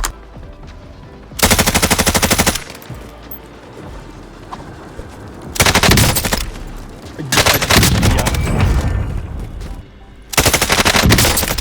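Bursts of rapid automatic gunfire from the Warzone video game rattle loudly in several separate volleys, with quieter background game sounds between them.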